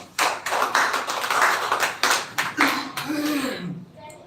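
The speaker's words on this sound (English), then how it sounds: "Clap for it." Audience clapping at a school spoken-English speech event: a short burst of scattered hand claps from a small group, fading out as a voice begins near the end.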